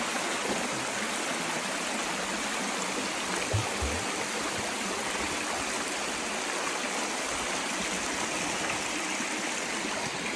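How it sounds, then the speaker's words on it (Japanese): Small river near home flowing steadily, a continuous broadband rush of moving water heard up close at an even level throughout, with no speech. "うちの近くの川に来ています"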